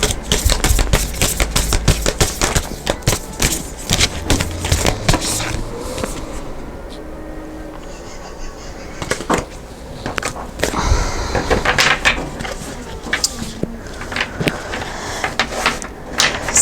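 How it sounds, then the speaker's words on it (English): A deck of tarot cards is shuffled by hand, with a dense rapid riffling and clacking in bursts, then a quieter stretch before the shuffling picks up again, close to the mic. "the way I shuffle these cards and the way that I get my answers"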